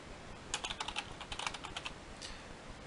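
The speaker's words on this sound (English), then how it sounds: "I'll just type in my name" A name is typed on a computer keyboard, a quick run of light clicking keystrokes in two short bursts, close and fairly quiet against a faint background hiss.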